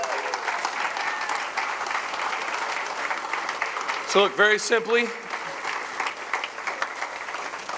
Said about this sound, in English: Let's all give a big round of applause for all the volunteers that helped.